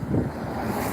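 Gusty wind on a slippery outdoor path buffets the microphone in a short, rumbling burst with no voices.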